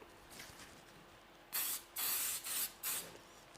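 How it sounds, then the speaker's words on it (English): Short bursts of protective spray from an aerosol can coat an isomalt sugar sculpture: four loud hissing puffs in quick succession, close by, after a quiet stretch with no talk. "I have to spray it now to protect from this shine long time"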